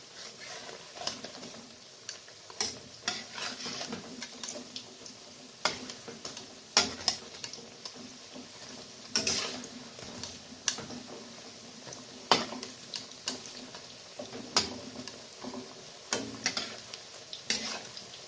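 Onion fritters (peyaji) frying in hot oil, a soft steady sizzle punctuated by many sharp ticks and clacks of a utensil as each piece is flipped one after another, close and fairly quiet.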